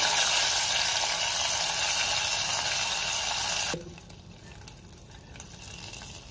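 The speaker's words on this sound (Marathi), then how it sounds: "मी फोडणी सगळी डाळीमध्ये घालून घेते।" Hot garlic tempering poured into cooked dal, a loud close sizzle and hiss lasting about four seconds, then cutting off to a faint low bubbling simmer.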